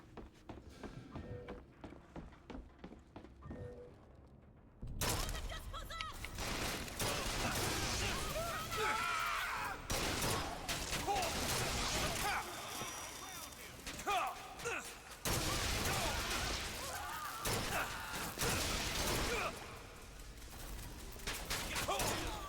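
Gunfire in the video game BioShock Infinite: dense bursts of shots and impacts crowd a loud, busy battle mix for most of the stretch, after a quieter opening.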